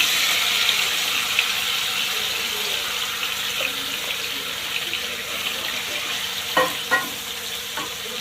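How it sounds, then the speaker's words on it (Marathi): Chicken frying in oil in a wok on a home stove gives a steady broad sizzle throughout, with a few sharp clinks of stirring near the end and no talking. "चला आता चिकन फ्राय करून घेऊ अगोदर।"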